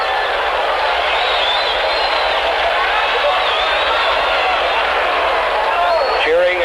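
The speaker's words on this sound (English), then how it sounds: "Cheering and yelling going on down the way as they approach the cars." A large crowd lining the street cheers and yells as the presidential motorcade approaches, a dense, loud, continuous roar of voices and clapping throughout.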